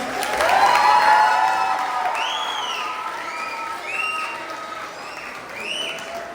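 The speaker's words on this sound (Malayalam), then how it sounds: "നമുക്ക് നല്ലൊരു കയ്യടി കൊടുക്കാം." An audience at a church youth talent competition applauds, a dense burst of clapping that peaks early and then slowly thins. Bright, chirpy whistle-like tones ring out over the fading claps.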